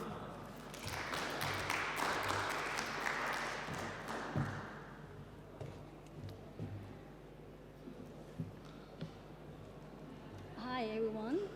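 Audience applause at a business forum on success stories from Guangzhou: moderate clapping from a crowd for a few seconds, fading out into room quiet with scattered noises before a voice begins speaking near the end.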